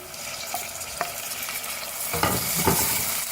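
Tomato stirred into frying onion and ginger-garlic paste for a dhaba-style tadka mash daal, with a steady sizzle under scraping spoon strokes that grow louder and busier toward the end.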